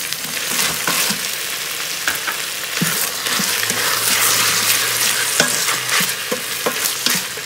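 Tomatoes frying with sautéed vegetables in an Instant Pot, a loud continuous sizzle broken by irregular scraping and clacking stir strokes against the pot, close up with no voices.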